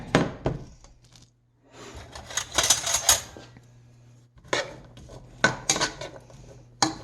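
Vegetables for crab corn chowder cooking in a pot, with repeated metallic clanks and scrapes of a utensil against the pot in clustered bursts, fairly close, between quieter stretches.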